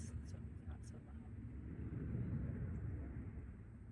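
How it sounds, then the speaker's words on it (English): A low airplane passing overhead outdoors, a broad steady rumble that swells gradually and stays loud, with faint voices murmuring at the start. "So here comes the airplane."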